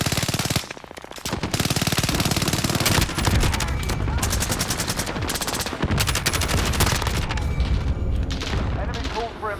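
Dense automatic gunfire and explosions from the video game Modern Warfare 2, loud and nearly continuous, with rapid bursts overlapping heavy booms and brief gaps, under occasional in-game voice callouts.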